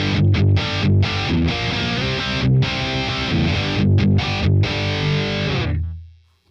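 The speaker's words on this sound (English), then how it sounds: "Alright, and the orange is going to be a distortion." Electric guitar through a Boss Katana 100 Head MKII amp on a distortion setting: loud, saturated chords chopped by several short rhythmic pauses, ringing steadily before fading away at the end, with no voices.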